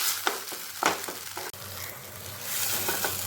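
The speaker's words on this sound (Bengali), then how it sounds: "এবার খুব ভালো মতন আমি মশলাটাকে কষিয়ে নেব" Ground spice paste and turmeric powder fry and sizzle in a pan for a vegetarian chhana dalna, a steady quiet hiss broken by a few soft stirring scrapes.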